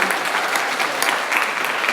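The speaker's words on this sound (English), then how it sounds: "Give a round of applause!" Dense applause from an audience at a hackathon final demo session fills the moment, steady and fairly loud with no speech on top.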